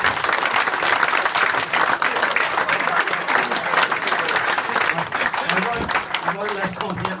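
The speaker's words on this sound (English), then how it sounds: "So a bit of a round of applause for that," Sustained, dense applause from an audience at a 1985 Wealdstone double winners reunion, loud and continuous clapping throughout with some crowd murmur.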